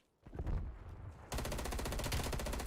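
Automatic gunfire from a gun in Black Ops Cold War, first a short burst, then a sustained loud rapid stream of shots that continues to the end.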